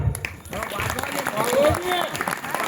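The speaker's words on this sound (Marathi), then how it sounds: "मग टाळ्या वाजवा की" A folk-performance audience breaks into scattered clapping that swells into applause, with voices talking through it.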